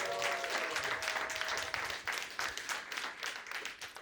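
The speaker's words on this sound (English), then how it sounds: "Give a round of applause for yourselves." A live podcast audience at a recorded show in Atlanta applauds steadily, a dense wash of many hands clapping together, with faint voices mixed in near the start.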